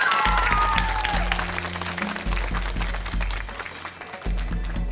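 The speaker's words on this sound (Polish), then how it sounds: "Brawa dla Mateusza, jest pierwszy punkt." Studio audience applause on a Polish driving-test quiz show fills the clip, a steady wash of clapping with a low, pulsing music bed underneath and no talk.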